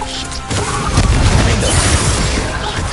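A Confringo fire spell in Hogwarts Legacy detonates in a loud, booming blast that hits at once and rolls on as a dense, crashing roar for a few seconds, with no voices over it.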